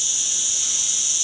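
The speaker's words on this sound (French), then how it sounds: "il y a les cigales en pagaille" Cicadas chirping in large numbers outdoors on a trek, a dense, continuous high buzzing drone that stays steady and loud with no voices.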